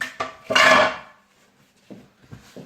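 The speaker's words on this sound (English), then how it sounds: "And mix a little cinnamon in with the apples." A utensil clatters in a bowl while grated apples are mixed with cinnamon, with a few close, sharp knocks and a scraping stir, then quieter taps.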